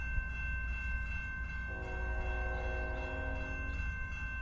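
A CSX westbound freight train nears a grade crossing in Fostoria, Ohio, with a steady low rumble and a sustained, moderately distant horn chord joining partway through.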